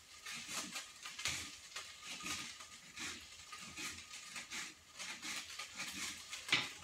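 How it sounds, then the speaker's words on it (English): A knife chops onions steadily on a cutting board, rapid rhythmic taps repeating close by, with a faint sizzle of frying tofu in the background. "Chopping those onions."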